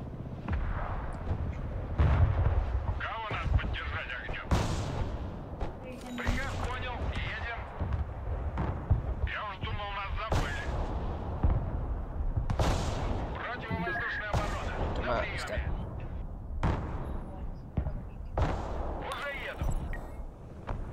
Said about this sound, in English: I got artillery coming down on it.